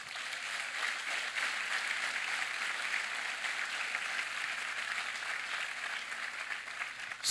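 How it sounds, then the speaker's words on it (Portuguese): A church congregation applauding during a Portuguese-language sermon, a steady wash of many hands clapping together, fairly distant and roomy, holding evenly for several seconds with no voices on top. "Pode aplaudir ao Senhor."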